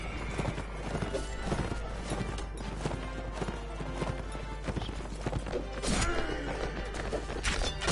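Horses galloping in the Mount & Blade Warband video game, with steady clip-clop hoofbeats and occasional neighs running the full length over dense battle noise, loud and continuous.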